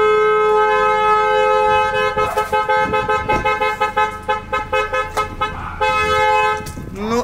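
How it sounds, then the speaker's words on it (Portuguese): A car horn sounds in a long steady blast, then a run of short rhythmic toots, then another sustained honk, loud and clear near a home. "Ah, buzina, não ouvi não."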